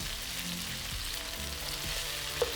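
Beef stir-frying in garlic oil sizzles steadily in a pan, with soft scraping from stirring and a faint click near the end.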